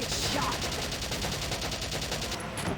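Rifle fire in the video game Valkyria Chronicles, a rapid, evenly spaced run of shots blending into a continuous rattle at moderate loudness.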